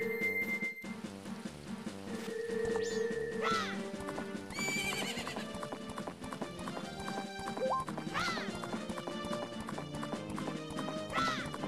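Horse sounds in a video game: whinnies and clip-clop hoofbeats over a dense, continuous layer of game music, with repeated rising tonal sweeps.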